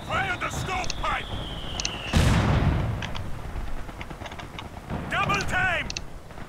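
Artillery fire in Company of Heroes 2 on the Port of Hamburg map: a loud, sudden blast with a long rumbling tail cuts through the battle noise, with voices talking before and after.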